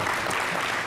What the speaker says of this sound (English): So I just want a quick round of applause for them because they are incredible.